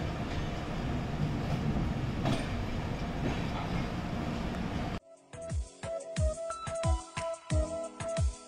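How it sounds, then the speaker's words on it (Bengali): The 12839 Howrah–Chennai Mail, hauled by a WAP7 electric locomotive, runs with a loud steady rolling roar, then cuts to a sharper rhythmic clickety-clack of wheels over rail joints. "ট্রেনটি চলে WAP7 লোকোমোটিভের সাহায্যে।"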